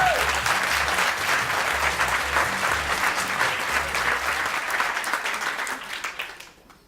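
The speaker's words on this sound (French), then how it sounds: "Et ça s'applaudit véritablement." Sustained audience applause at a talk, a dense even wash of clapping that holds steady for several seconds and then fades out.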